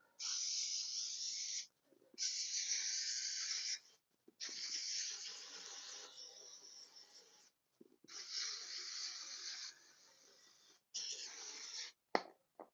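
An aerosol can hisses in several long bursts of a few seconds each, separated by short pauses, close by.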